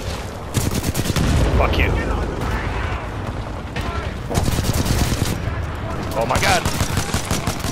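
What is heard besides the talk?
gunfire in video game Titanfall 2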